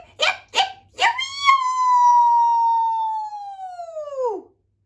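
A human voice imitates a coyote, giving three quick yips and then one long, sliding howl that holds steady and drops away at the end, loud and close with nothing else behind it.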